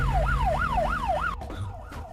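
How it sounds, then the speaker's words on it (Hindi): An ambulance siren wails in a rapid rising-and-falling pattern for over a second, then cuts off, leaving a brief low rumble of the vehicle. "ये तो पुलिस का सायरन है।"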